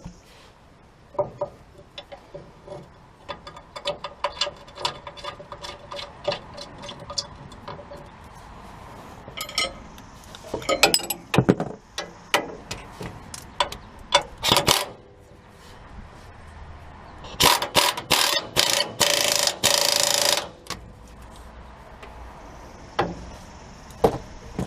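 Wrench work unbolting factory suspension parts on a 2011 Ram 3500 during a Timbren suspension upgrade: sharp metallic clinks and knocks, bursts of ratcheting, and a longer rattling stretch, close and fairly loud with no talking.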